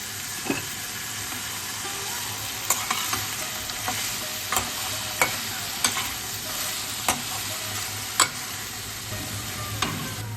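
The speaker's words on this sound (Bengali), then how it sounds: "এবার আমি সেদ্ধ করে রাখা মোচাটা দিয়ে দিচ্ছি" Boiled banana flower tossed into a pan of spice-coated potatoes is stirred and fried, giving a steady sizzle throughout with a spatula scraping sharply every second or so, close and clear, with no talking.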